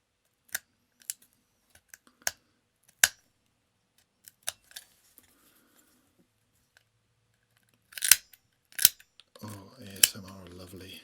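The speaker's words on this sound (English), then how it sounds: "I'm just going to go in with that blade and just remove the oxide layer as well." A blade scrapes the oxide layer off a metal guitar-electronics tube shield in a series of sharp, close scratchy strokes and clicks, sparse and separated by quiet, with a denser burst near the end.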